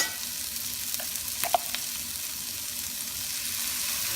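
Garlic frying in a pan after onions, with a steady low sizzle and a few brief scraping stir strokes near the start, heard alone without talk.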